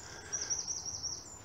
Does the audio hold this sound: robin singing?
yes